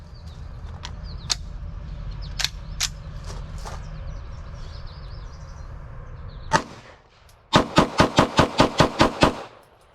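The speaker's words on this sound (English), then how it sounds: "we're going to rapid fire 10 rounds with the Walther slide on the Canik frame" Ten pistol rounds fired in quick, evenly spaced succession from a Walther slide mounted on a Canik frame, loud and close, preceded by a few scattered sharp reports over a low outdoor rumble.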